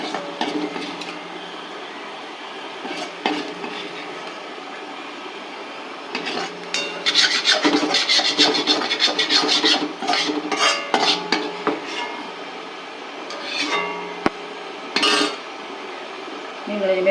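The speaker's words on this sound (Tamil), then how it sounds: "நான் அடுப்பை ஆஃப் பண்ணிவிட்டு சர்விங் பவுலுக்கு மாற்றுறேன்" Metal spoon scraping and clinking against a pan as potato curry cooked with lentil powder is moved into a serving bowl, with irregular bursts of scrapes and taps that grow busier midway, then a few sharp knocks.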